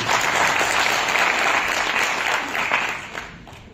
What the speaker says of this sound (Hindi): मुझे लगता है इस बात पे तो तालियां भी हैं